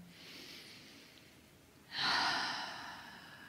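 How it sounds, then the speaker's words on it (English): Two deep breaths are drawn in, a soft, airy first inhale followed by a louder, fuller second one, close to the microphone with no talking. "take a breath with me. Big inhale. And another inhale."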